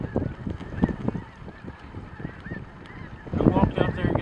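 Snow geese honk repeatedly in a field near a road, a busy chorus of overlapping nasal calls, with people talking over them.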